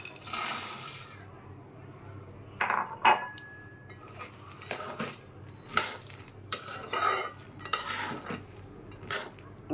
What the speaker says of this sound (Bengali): এখন বাদাম ঢেলে দেব।